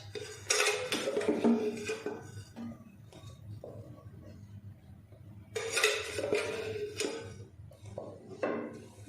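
A spoon clinks and scrapes against a metal kadai on the stove as ghee is added, producing bursts of close metallic clatter separated by quieter gaps of low background hum.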